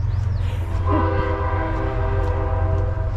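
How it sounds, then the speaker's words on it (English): A train horn sounds in sustained tones over the deep, constant rumble of a train passing nearby. "I can also hear a train coming"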